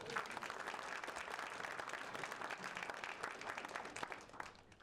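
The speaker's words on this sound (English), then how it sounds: "can we give a huge round of applause to the Catalyst team and to Capital Factory for having us here today?" An audience claps steadily at a fall student showcase and pitch event at Capital Factory, a dense, even patter of many hands that fades at the end.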